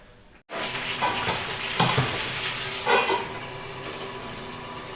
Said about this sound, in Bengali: পটলটা কেটে আগে বসিয়ে দিলাম একটা হতে থাকুক